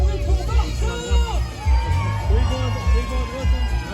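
A stadium crowd cheers and shouts in swelling waves, loud and close, with whoops and a booming announcer's voice talking over the roar.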